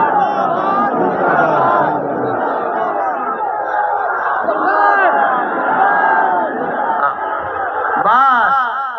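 A large crowd at a religious gathering chants slogans together in continuous loud unison, with voices overlapping throughout and a brief stronger shout near the end.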